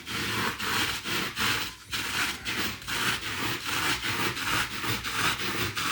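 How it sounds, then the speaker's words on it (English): Sanding by hand gives a rhythmic, repeated rubbing scrape, back-and-forth strokes about twice per second, steady and fairly close with no voices. "We can't find a knife that'll do the job, so we're sanding it."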